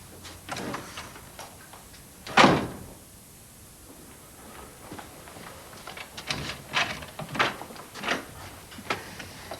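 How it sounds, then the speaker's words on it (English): A door being opened in a 1994 television comedy scene: a sharp handle clunk and creak, followed by scattered knocks, shuffles and light ticking movements around a room. "Let's stop doing nothing and open this door."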